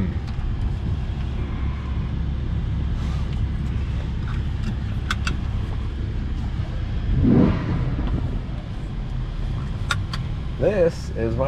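A Lamborghini Huracan LP 610-4 idling as it warms up, a steady low engine rumble throughout with a brief swell partway through, while people talk nearby.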